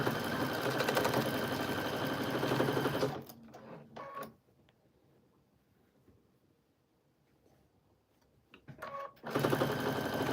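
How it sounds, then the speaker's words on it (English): Sewing machine stitching scraps of quilt batting, running loud and steady for about three seconds, falling quiet, then starting again briefly at the end. "And then we just go ahead and sew."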